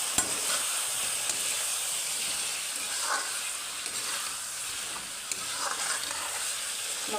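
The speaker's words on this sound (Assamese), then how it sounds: "এতিয়া মাংসখিনি ভালদৰে লৰাই দিম।" Chicken pieces, salted, frying in a pan for an Assamese chicken gravy while being stirred, producing a continuous close sizzle with soft scraping and shuffling of the meat, no voices.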